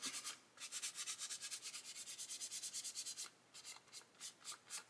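Paint is rubbed down on a 1/24 Airfix Bf109 G-5/G-6 plastic model kit, giving fast rhythmic scrubbing strokes, close and quiet, in a steady run, then a brief pause and slower, spaced strokes.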